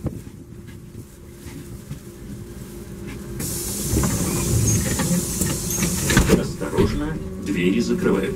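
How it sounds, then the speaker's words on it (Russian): Trolleybus doors closing at a stop on route 46 in Saint Petersburg, a loud rising hiss and mechanical rush that swells midway and lingers with clunks, heard inside the cabin. "двери закрываются."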